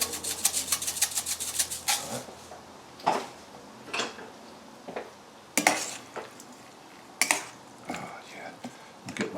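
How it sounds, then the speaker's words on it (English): A spoon scrapes and clatters in a pan while merguez chicken and sausage are stirred, bursts of metallic knocks and scraping coming in irregular strokes, with a faint sizzle between them. "Stir. Mix well."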